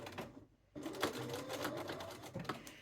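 A sewing machine top-stitches around a collar with a steady, fast mechanical whir. After a short pause it keeps running, close up and fairly quiet.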